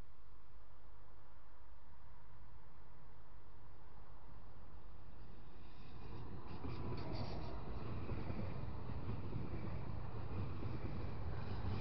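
A coupled pair of Stadler FLIRT electric multiple units arrives at Balatonarács railway halt, a low rumble that swells and grows louder over the second half as the train draws near.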